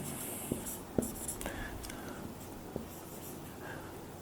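Chalk or marker taps and scratches against a board while an equation is written, in short irregular strokes, close and fairly faint in a quiet room.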